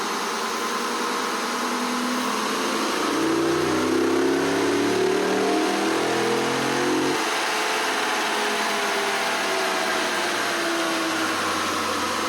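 A 2019 Ram Rebel pickup's 5.7 Hemi engine revs hard through an aftermarket air intake, a loud close roar rising and falling across several seconds before settling back toward idle, with no talk.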